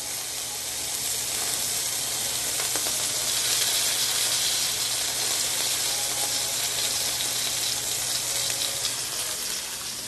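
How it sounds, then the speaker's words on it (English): Steak searing in a hot pan with rosemary and garlic, a loud, steady, hissing sizzle that stays continuous and close throughout, with no talking over it. "I love the sizzle gizzle. Ooh, okay, that's a good sear."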